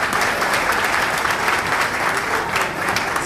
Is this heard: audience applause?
yes